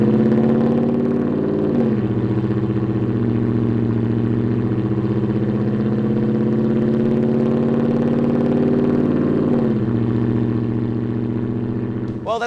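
Ford F-150 truck with a 5.0-liter V8 and Borla Attack cat-back exhaust, heard alone as a loud, steady deep exhaust drone with two short rev blips near the start and near the end.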